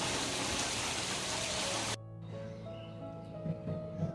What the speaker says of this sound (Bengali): কিরকম বৃষ্টি হচ্ছে দেখো বন্ধুরা, এত বৃষ্টি হচ্ছে যে রাস্তায় একদম জল জমে গেছে